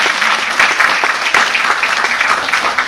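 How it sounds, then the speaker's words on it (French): Sustained audience applause at a women's success and inspiration seminar, a dense steady clatter of many hands clapping, loud and close throughout with no talking over it. "Encore un tonnerre d'applaudissements."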